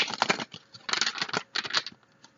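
Close, crisp card shuffling in three quick papery bursts with short pauses between, no voices.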